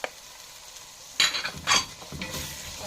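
Green fava beans being sautéed with onion, garlic and spices: a pan sizzles quietly as a utensil scrapes and stirs in a few distinct strokes, with the frying growing louder toward the end.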